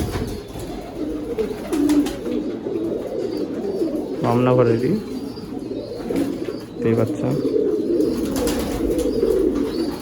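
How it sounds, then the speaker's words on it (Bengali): Pigeons coo repeatedly on a rooftop loft of flying pigeons, a soft, continuous burbling close by while people talk over it. "এখানে যেগুলো আছে সব ওড়ানোর পায়রা আছে, এগুলো সবই ওড়ানোর।"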